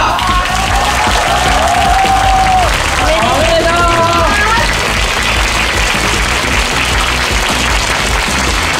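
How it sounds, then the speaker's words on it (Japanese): Audience applause at a Taiko drum championship final, broad sustained clapping and crowd noise filling the whole stretch, loud, with a tonal music sting sweeping through early on. "改めて最強のドンダー4名の選手の皆さんに大きな拍手をお送りください"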